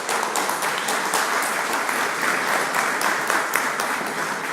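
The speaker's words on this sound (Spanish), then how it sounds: "licenciado Daniel Rosenberg Cervantes Pérez, para quien pido un aplauso." A forum audience in Mexico gives a moderate round of applause for a panelist, with continuous, evenly textured clapping heard from a mid distance.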